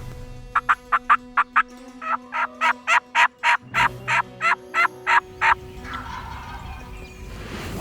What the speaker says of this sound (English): He just gobbled. He's actually pretty close.